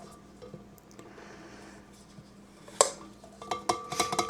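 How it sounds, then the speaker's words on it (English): Peanut butter is added to a pie filling in a bowl, with soft scraping and squishing, then sharper clinks and taps of a utensil against the dish toward the end. "Now we're just going to add the peanut butter."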